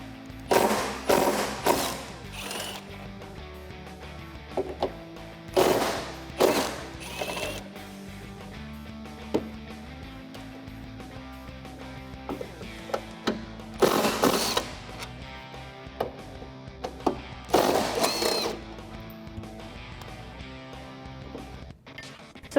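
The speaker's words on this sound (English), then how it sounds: "we can go ahead and remove our hinges. So I'm going to be using a T55 Torx socket" A T55 Torx socket backs out the tailgate hinge bolts on a Jeep Wrangler JL, giving sharp ratcheting bursts and metallic clicks in separate clusters, with quieter handling noise between them.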